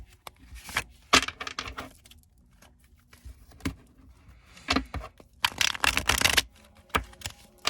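Crisp riffling and slapping of tarot cards in short bursts, with a longer, denser shuffle near the end; close and moderately loud, no talking.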